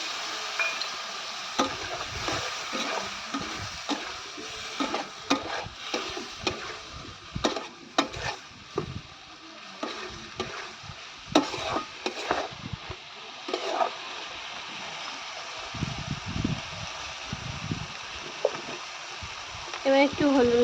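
Soybean chunks and potato curry sizzle and bubble in a pan just after water is added, with crackling spurts, stirring scrapes and uneven bursts of frying close up.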